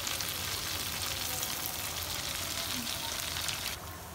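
Potato vegetable snacks frying in oil over a low flame, a steady, close sizzle and crackle that holds even throughout before easing slightly at the very end.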